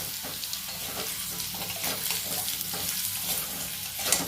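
Potatoes frying in oil in a pan give a steady, close sizzle that holds through the whole stretch, with a few soft stirring scrapes and no talking.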